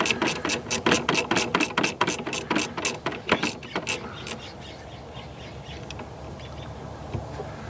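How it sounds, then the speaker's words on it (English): A 1/2 inch ratchet wrench clicks in a quick rhythmic burst of sharp pawl ticks, close and loud, while working on a 1998 Buick Century Limited, then the clicking stops and only faint room noise remains. "A ratchet wrench here."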